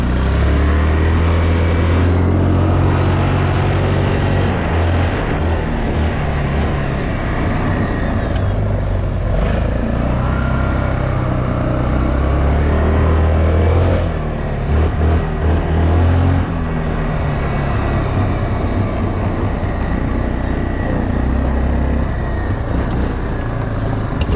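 A 2006 Yamaha Bruin 350 4x4 ATV engine runs loud and close under throttle, its rough, continuous drone rising and falling slightly as it is revved.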